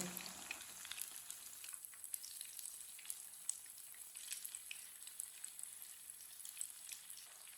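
Food frying in a pan on a medium flame, each side left to cook about two minutes; a steady, soft sizzle and crackle continues throughout with no voices.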